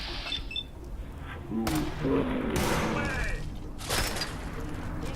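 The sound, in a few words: gunfire in the video game Fallout 4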